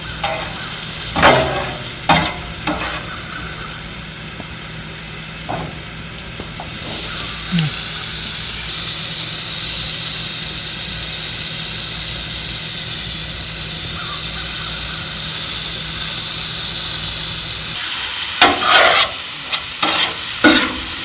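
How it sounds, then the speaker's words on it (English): Mushrooms and onions grilling on a hot surface give a steady, close sizzle and hiss throughout, broken by a few sharp scraping stirs near the start and end. "he's grilling the mushrooms and the onions right now"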